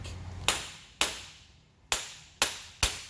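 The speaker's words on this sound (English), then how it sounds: "we're going to hit that with a hammer" Five sharp metallic hammer strikes seating a CV axle into place on a 2003-2009 Toyota 4Runner, spaced unevenly, each ringing briefly before fading; close and fairly loud with quiet between blows.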